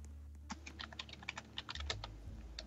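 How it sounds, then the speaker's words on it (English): Computer keyboard typing during a Lumber Tycoon 2 gaming session, a quick irregular run of soft key clicks, faint and close, over a low background hum with no speech. "Yeah, you do since you're typing."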